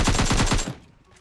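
Rapid automatic gunfire in the mobile battle-royale game PUBG Mobile: a loud, close burst of about six quick shots lasting well under a second, then a fading echo.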